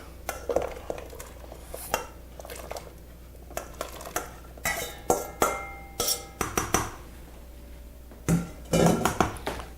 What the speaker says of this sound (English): I'm gonna go ahead and add all these potatoes and carrots.